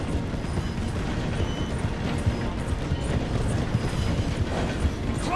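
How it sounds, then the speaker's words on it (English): A steam-era train in Red Dead Redemption 2 rumbles steadily as it slows through a station, with dense mechanical clatter and faint wheel clicks filling the clip at close range, no voices. "The train is slowing down to go through the station."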